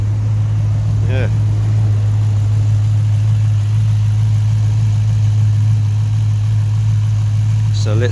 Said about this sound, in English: So every 15 minutes I have to give it a blip, just to expel some of the carbon out the rear.